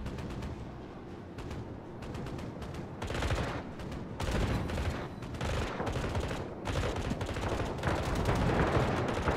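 Anti-aircraft guns firing in the naval video game World of Warships, a dense continuous rattle of rapid shots in bursts that swell and fade, loud and close without talk.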